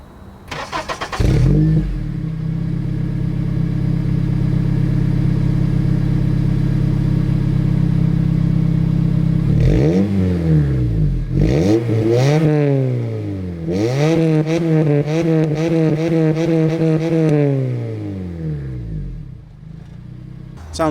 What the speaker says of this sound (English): I'm gonna start it up, give it a few quick revs so you guys can hear it better.